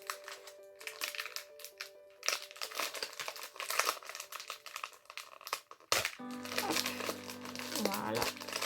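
A packet of ten nail files is torn open by hand, giving close crinkling and crumpling of plastic wrapping in bursts, with a sharper rip partway through and some faint background voices.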